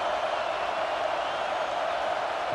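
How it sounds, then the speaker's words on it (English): Steady crowd roar from the stands at a high school football game between St. Thomas Aquinas and Centennial, a continuous dense wash of many voices with no clear individual cheers or claps. "Listen to the crowd energy here in the early going"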